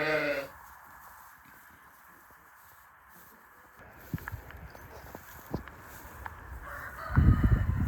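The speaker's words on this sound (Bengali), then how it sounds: "মোরগে ডাকতেছে" A rooster crows at a farm with sheep during a search for sacrificial animals, the calls rising near the end with short bleat-like bursts earlier over a quiet, low background.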